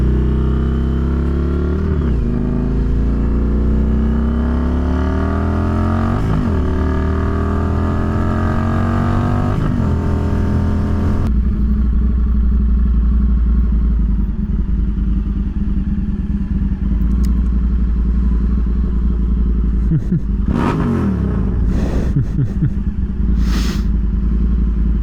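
Loud, close idle of an Indian FTR 1200 motorcycle engine running steadily, with several rises in revs early on and a few sharp bursts of throttle near the end.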